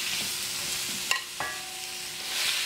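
Meat with onions and shiitake mushrooms stir-frying in sesame oil, a soft steady sizzle with a couple of sharp clinks from a utensil against the pan.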